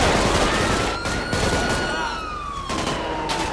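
Gunfire in GTA 5 rings out as a dense volley of shots against a wailing police siren, loud and close throughout with no voices over it.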